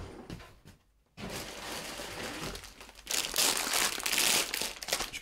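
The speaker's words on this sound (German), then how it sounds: "Ich kruschel mal ein bisschen" Plastic bags of Lego pieces for a large Captain America shield set crinkle and rustle as someone rummages through them, starting moderate, pausing briefly, then swelling into loud, dense crackling close by.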